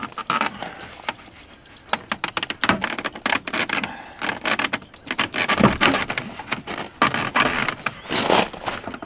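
A plastic trim tool scrapes and pries at the door trim of a Land Rover Discovery 2, giving close, irregular scraping, creaking and clicking with busy bursts throughout. No one speaks.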